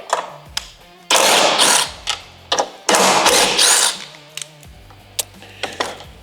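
Two loud whirring runs of a power driver backing screws out of a Harley-Davidson Street Glide, close by, with scattered clicks and light handling noises around them and no voices.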